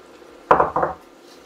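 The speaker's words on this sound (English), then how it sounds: "And next I add the chopped onions." Chopped onions tipped into a pot of Nigerian ugu vegetable soup, a quick clatter of two or three close knocks and scrapes against the pot, brief and alone without talk.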